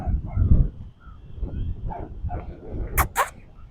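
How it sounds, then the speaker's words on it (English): A dog barks at geese outdoors, giving two sharp, loud barks near the end over a low background of murmuring and movement. "There's a dog barking at the geese over there."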